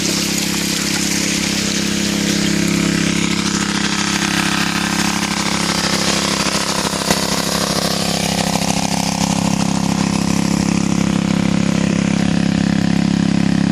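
A small pump engine runs steadily, feeding water to a Goldhog mini highbanker at an outdoor gold prospecting site, giving a loud, constant drone throughout with no talking.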